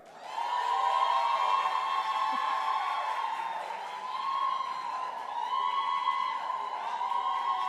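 A crowd at a public sector debate grand final cheers on a team with a loud, sustained roar of voices that rises and falls in waves, with scattered whoops.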